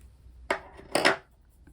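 Scissors snip through crochet yarn in two quick, close cuts, each a short crisp burst separated by a brief quiet pause, with no talking.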